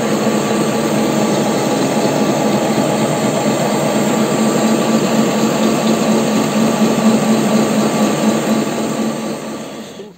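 A lathe turns a steel half-shaft blank at about 250 rpm with a roughing cutter that has no chipbreaker, producing a loud, steady, close cutting and machine drone that holds for the whole stretch and eases off at the end.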